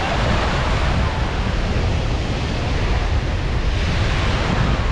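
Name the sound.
sea waves on the beach at Gokarna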